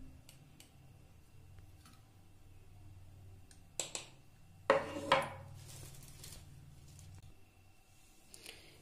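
A few light metallic taps and scrapes as gram flour is spooned into a steel bowl, faint and sparse over a quiet background with no talk.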